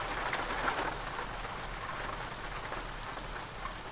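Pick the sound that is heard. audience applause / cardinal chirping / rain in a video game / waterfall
rain in a video game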